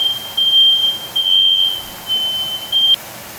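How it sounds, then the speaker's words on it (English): A high-pitched electronic smoke alarm beep sounds in repeated bursts of uneven length over a quiet kitchen background, stopping near the end. "That was my smoke alarm."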